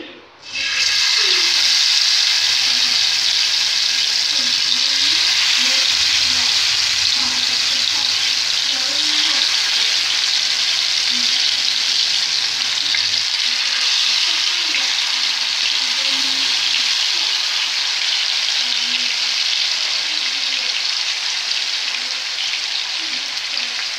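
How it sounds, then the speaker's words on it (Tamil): Vanjaram (seer) fish fry: fish slices laid into hot oil in a pan on the stove, setting off a loud, dense, continuous hiss that starts almost immediately and holds steady close up, with no talking. "எண்ணெய் சூடாகும் கொஞ்சம் லைட்டாக இப்போ மீன் எடுத்து"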